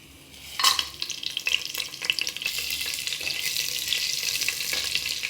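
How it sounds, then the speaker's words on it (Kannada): Cumin and whole spices hit hot oil over low flame with a sudden hiss, then a steady, bright sizzle continues, with occasional stirring scrapes. "ನಾವೀಗ ಜೀರಾ ರೈಸ್ಗೆ ಒಗ್ಗರಣೆ ಮಾಡ್ಕೊಳ್ಳೋದು"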